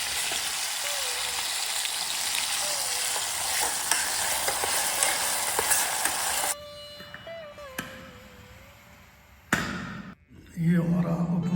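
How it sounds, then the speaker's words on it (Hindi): Upma with peanuts, tomato and green chilli is stirred and fried in a pan on a gas stove, with a steady sizzle and scraping stirs up close, then quieter clinks and a sharp knock as cooking ends. "ये हमारा उपमा बन के तैयार है।"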